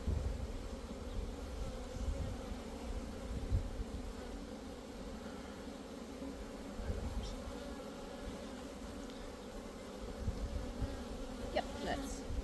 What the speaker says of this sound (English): Try not to squash any bees.